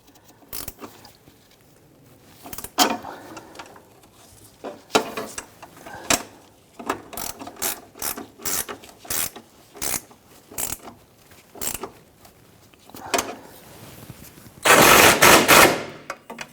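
A ratchet tightens nuts on the electric fuel pump assembly of a 1997-2006 Jeep Wrangler, producing sharp clicking bursts at an irregular rhythm, close up, ending in a longer loud run of rapid clicks.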